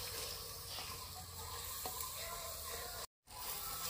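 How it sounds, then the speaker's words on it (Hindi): Powdered red chili, cumin and coriander roast and sizzle steadily in a pan for a village-style potato shorba, a continuous close frying hiss with faint stirring scrapes and a brief dropout near the end. "अच्छी तरह मिक्स करते हैं और 1 मिनट तक इसकी भुनाई कर लेते हैं।"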